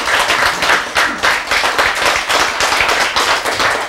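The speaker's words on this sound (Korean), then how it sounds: "박수!" Audience applause at a Korean sermon or lecture, a steady dense patter of many hands clapping, loud and sustained with slight swells throughout.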